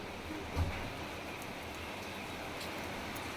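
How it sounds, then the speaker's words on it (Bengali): Steady, dense rain hiss filling the background, continuous and even, with a brief low thump near the start and no voices. "বহুত জোরে বৃষ্টি হচ্ছে"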